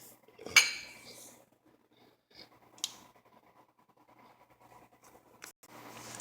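A spoon swirls water in a cooking pot to make a whirlpool for a poached egg, giving one clear metallic clink followed by a few fainter taps and soft stirring in a quiet kitchen.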